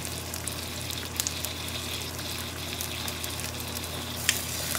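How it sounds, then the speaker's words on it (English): A constant sizzling hiss of chicken breasts frying in a hot pan, close and steady, with a few faint pops and crackles. "listen to that sizzle"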